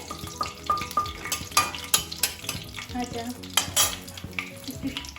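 Bay leaves frying in hot oil give a soft crackle under repeated clattering stirs of a spoon in the pan, with a faint steady tonal hum in the background.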